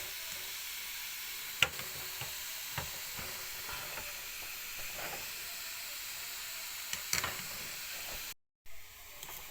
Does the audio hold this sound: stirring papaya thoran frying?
yes